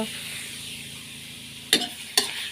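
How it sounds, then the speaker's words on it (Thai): Pork sizzles and hisses steadily in a hot pan as it is stir-fried, with two sharp scraping clanks of a utensil stirring near the end. "เสร็จแล้วก็นำหมูไปคั่ว"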